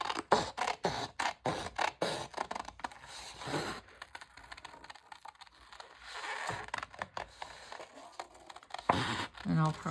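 Printed paper folio pieces for a shabby chic junk journal being cut out with scissors, giving repeated crisp snips and rustling crinkles of paper, close and fairly loud, with handling noises between cuts.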